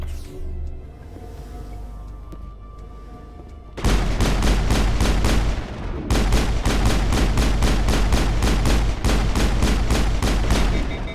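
Turret gunfire in a Mass Effect firefight, a dense rapid burst starting partway through and hammering on almost without pause, with brief breaks between volleys, loud and close over low game ambience.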